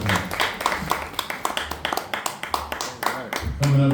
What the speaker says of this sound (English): Let's get a room of applause to help us take it up.